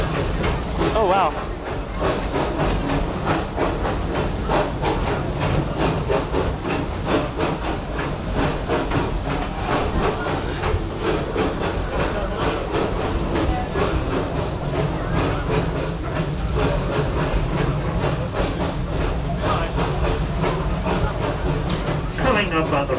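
Serengeti Railway train at Busch Gardens Tampa rolling steadily with a continuous hiss and rumble of the ride, a recorded narration voice talking over it throughout.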